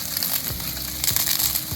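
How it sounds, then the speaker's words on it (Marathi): Papad is broken by hand into small pieces close up, giving brittle crunching and crackling bursts in a few quick handfuls over a faint background sizzle. "आता यामध्ये हे पापड बारीक करून असे"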